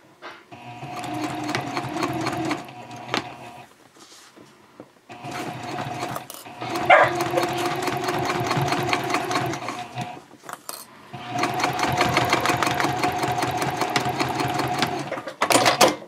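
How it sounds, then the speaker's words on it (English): A sewing machine set to a 3.0 stitch length runs a 1/4 inch seam on a messenger bag gusset, in three bursts of steady mechanical whirring separated by short pauses, close and clear. "we're going to sew this on with a 1/4 inch seam"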